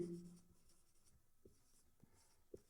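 A marker or chalk writes on a board during a chemistry class, giving a few faint, quiet strokes and taps spaced apart in a hushed room, with a brief voice at the start.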